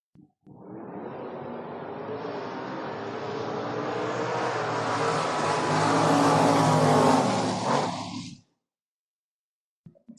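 Mustang drag car making a run at the Door Wars drag race, engine roaring up loud from the start and building steadily for about eight seconds before cutting off sharply.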